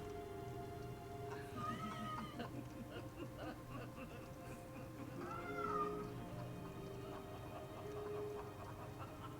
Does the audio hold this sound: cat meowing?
yes